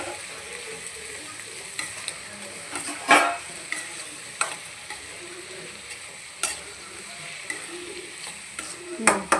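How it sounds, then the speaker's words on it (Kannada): Tomato frying with onions in oil for a drumstick curry, with a continuous soft sizzle broken by several sharp spoon scrapes and stirring clatters against the pan. "ಇವಾಗ ಟೊಮೊಟೊ ಹಾಕ್ತಾಯಿದ್ದೀವಿ."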